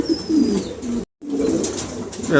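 Pigeons coo in low, throaty rolls with a brief gap of silence midway, their soft burbling continuing close and steady on both sides.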